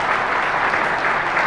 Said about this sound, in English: I'd like to get a round of applause for the audience